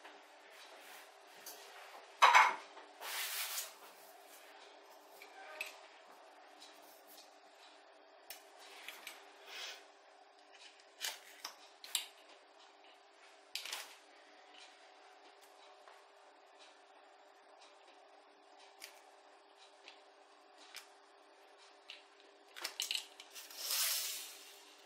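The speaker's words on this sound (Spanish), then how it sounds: "Y ahora voy a hacer cortes cada 4 centímetros." A knife slices croissant dough into strips every 4 cm, producing soft, scattered cutting clicks and taps against the board over a quiet background, with a few sharper knocks near the start and end.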